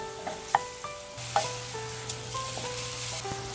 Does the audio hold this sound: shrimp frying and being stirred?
yes